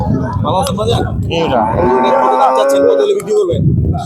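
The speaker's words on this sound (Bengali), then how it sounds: "গরু কিন্তু এখানে অনেক গরু আছে" A cow moos loudly and close by at a busy cattle market selling cows with calves, one long drawn-out low call rising over background chatter, with people talking before and after it.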